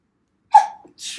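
A single sharp sneeze bursts out close by, followed by a brief breathy tail and a short sniff or exhale.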